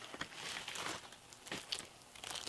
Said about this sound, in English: this is in a plastic bag.